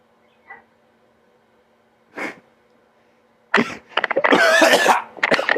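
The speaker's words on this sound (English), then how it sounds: "Why is it that the sound of the coughing somehow fits" Two small, faint coughs are followed by a loud, close fit of harsh coughing and sputtering, heard in a quiet room during a podcast with no talking.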